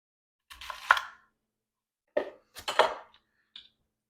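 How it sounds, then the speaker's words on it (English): A knife cutting fennel on a chopping board fitted with nails, three short separate bursts of cutting and board knocks with quiet pauses between. "the fennel, I'm going to cut that off"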